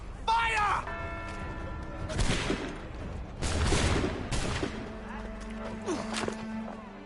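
A volley of musket fire rings out on command in Assassin's Creed III, heard as broad bursts of blasts amid speech and background game sound.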